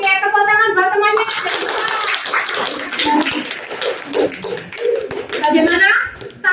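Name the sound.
class clapping for a classmate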